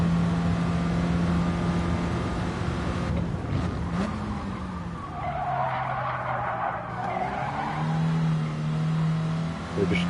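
A Clio Cup race car in a racing game, its engine droning steadily and shifting pitch through a corner while tires skid and squeal, close and continuous throughout.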